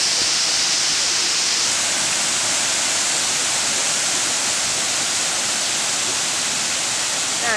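The Banyu Wana Amertha waterfall in North Bali roars as a loud, constant broadband rush of falling water with no breaks, heard close and alone.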